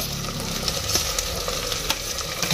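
Capsicum and tomato frying in a pan, a steady close sizzle with soft crackles and stirring scrapes throughout, no talking.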